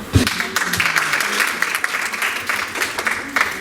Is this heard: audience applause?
yes